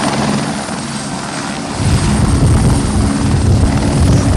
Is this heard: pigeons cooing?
no